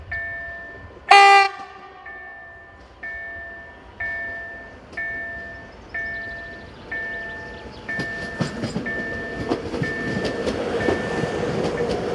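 A Koleje Śląskie Class Z140 unit approaches on a driver training run, with a loud horn blast near the start, repeating rhythmic clicks, then rising rail rumble as it draws close.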